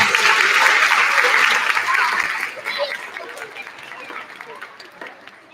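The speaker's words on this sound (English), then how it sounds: "Big round of applause, my friends." Loud, dense applause from a crowd at a first and second grade school concert, steady at first and then thinning and fading toward the end.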